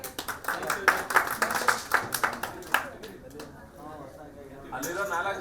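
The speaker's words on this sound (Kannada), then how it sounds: "ಎಲ್ಲ ಚಪ್ಪಾಳೆ ಹೊಡ್ತೀರಿ ಸರ್." A crowd at a bumper prize-draw event claps in a rhythmic burst of loud, quick claps that fades after a few seconds, with people talking over and after it.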